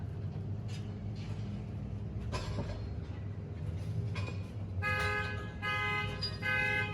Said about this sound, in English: here's the alarm of the annoying car that always starts.